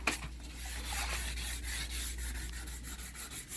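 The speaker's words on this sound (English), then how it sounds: "I'm able to sand." Hand sanding a hardened hot coat of Sea Hawk Captain Jack's flash varnish, a steady close rubbing scratch with rhythmic back-and-forth strokes over a low constant hum.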